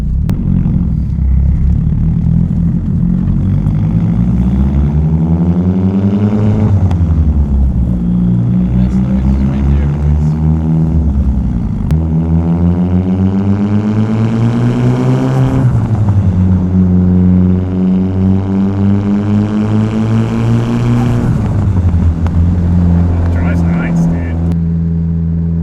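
A JDM right-hand-drive turbo hatchback with individual throttle bodies accelerates through several gears, its engine note climbing and dropping repeatedly over a steady in-cabin drone, with voices talking over it.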